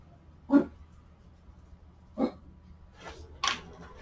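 A dog barks a few times, spaced out with pauses between, a little distant, over a quiet background hum, reacting to a lawnmower during a backyard barbecue.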